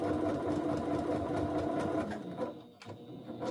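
A sewing machine stitches lightweight cotton fabric with a fast, even mechanical whir for about two seconds, then slows and stops, followed by a few faint clicks as the work is repositioned.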